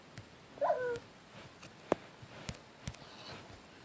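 A Minecraft cat gives one short meow, followed by a few scattered soft clicks and taps over a quiet background.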